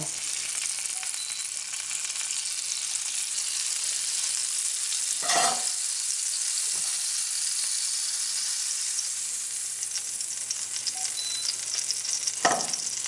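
Oil frying in a pan on a stovetop while beef rib caldereta is started, a steady broadband sizzle throughout with a couple of brief stirring scrapes or clinks, no talking.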